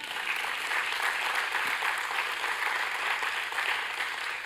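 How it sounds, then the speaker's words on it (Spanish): Church congregation applauding during a sermon, a steady, dense wash of clapping from many hands that holds evenly throughout with no voices over it. "Aplausos para el hermano mayor."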